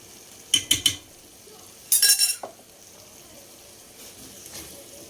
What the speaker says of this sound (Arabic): نخلطو هادشي كلشي مزيان.